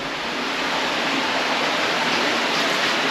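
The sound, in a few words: water flowing out of a mine shaft underground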